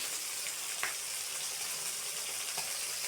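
Jatka hilsa fish frying in a pan over medium-low heat, giving a steady, even hiss with a few faint pops and no voices.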